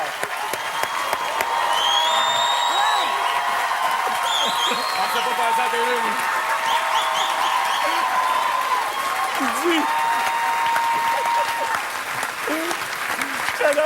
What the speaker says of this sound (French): On applaudit nos 3 invités de ce soir.